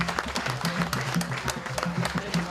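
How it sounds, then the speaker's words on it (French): A wedding crowd at a traditional marriage applauds the queen mother of Bikouti with brisk, continuous clapping from many hands, close and lively for a couple of seconds, with no speech over it. "Est-ce qu'on peut applaudir pour la reine-mère du Bikouti"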